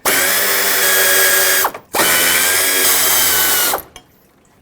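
A ratchet spins off two 10mm bolts on a 2012-2020 Nissan Pathfinder during alternator replacement, giving two loud, close, sustained runs of whirring clicks, each ending abruptly.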